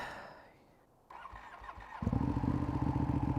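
A 2016 Ducati Panigale, a wrecked bike rebuilt and run without its fairings, cranks briefly and then fires into a steady, loud, close idle that carries on to the end, with no talk.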